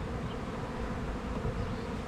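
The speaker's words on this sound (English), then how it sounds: "just enjoy the actual chaos that is this little bee tornado that we started" A honeybee swarm buzzes in a dense, continuous drone, many bees whirring together close by with no pauses.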